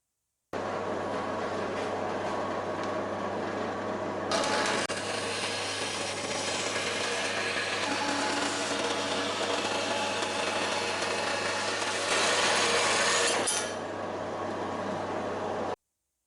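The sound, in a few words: Clarke CBS45MD bandsaw cutting freehand in vertical mode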